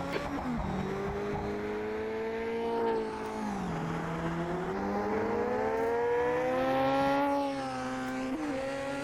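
A historic Formula 2 race car engine at Monaco screams through gear changes, its pitch climbing and dropping repeatedly as it accelerates and brakes, with a steady loud drone.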